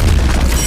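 A booming explosion effect from an anime battle in My Hero Academia rumbles low and heavy for under a second, loud and sustained with no voices.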